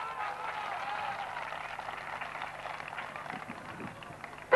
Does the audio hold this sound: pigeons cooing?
no